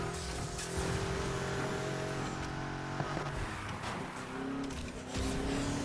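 A 1992 Ford Mustang Saleen foxbody custom build in Need for Speed Heat roars loud and steady under nitrous boost, its engine note rising and holding with faint tire noise through the run.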